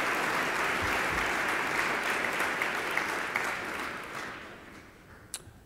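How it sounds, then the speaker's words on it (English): A morning Veterans' Day audience at Saint Thomas Academy applauds the musicians after the national anthem, a broad wash of clapping from a large crowd that fades toward the end, capped by a single sharp click. "how about a big round of applause for our musicians here this morning?"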